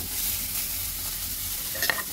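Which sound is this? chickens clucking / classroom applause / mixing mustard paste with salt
mixing mustard paste with salt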